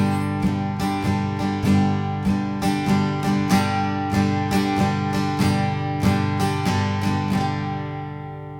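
Acoustic guitar strummed in a steady, fairly quick 6/8 pattern, with clear rhythmic chord strokes repeating evenly throughout and ringing close and loud, with no talking.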